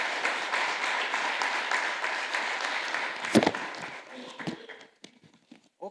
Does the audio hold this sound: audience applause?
yes